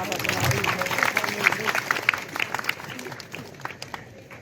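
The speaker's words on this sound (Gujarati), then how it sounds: "તાળી વગાડો બાબા, તાળી વગાડો." Audience clapping at a village Ganesh festival gathering, a steady crowd applause with dense overlapping hand claps, moderately loud and continuous, fading slightly toward the end, with voices mixed in.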